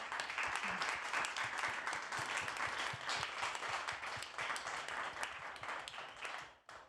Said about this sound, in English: Please join me in a huge round of applause for these amazing folks.